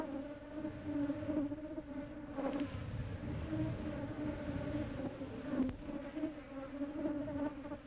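Honeybees, drones and a queen, fill the air with a close, continuous droning buzz that wavers slightly in pitch and loudness, with no voices.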